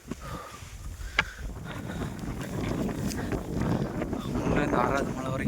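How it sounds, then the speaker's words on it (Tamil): Wind blows hard and steadily on the seventh hill of the Velliangiri hills, rumbling across the microphone, while someone talks beneath the gusts. "காற்று பயங்கரமாக அடிக்குது"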